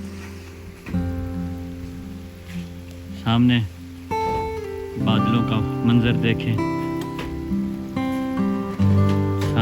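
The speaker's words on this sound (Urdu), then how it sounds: "دوستو باہر کا ماحول دیکھیں, خوبصورت بارش جاری ہے" Steady rain falls outdoors during monsoon weather in a village, a constant hiss beneath someone talking throughout.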